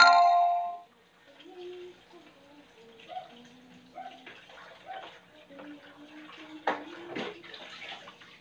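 Water runs from a tap in a home kitchen as a soft, steady trickle with light splashes. A loud burst opens the stretch, and a few clinks come near the end.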